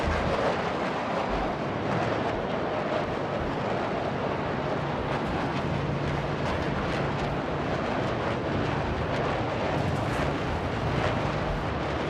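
Roaring afterburner thrust from a spacecraft engine in a space flight video game, a loud, dense, continuous rumble holding steady throughout with no pauses.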